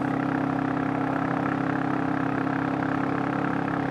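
Royal Enfield J series motorcycle with a big-bore 410 engine pulling steadily uphill at part throttle around 60 in fifth gear, a continuous droning engine note with a strong steady hum, loud and close, with no speech.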